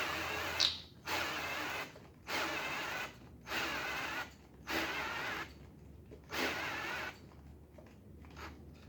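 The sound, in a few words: cordless drill struggling while assembling a small block engine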